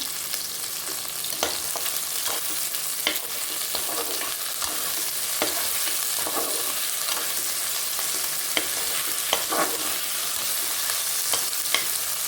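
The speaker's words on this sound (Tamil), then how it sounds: "கல் உப்பு போட்டு நல்லா வதங்கி வரட்டும்" Mutton gravy masala with rock salt sizzles steadily in a pan, with a continuous hiss broken by repeated scraping stirs of a spoon.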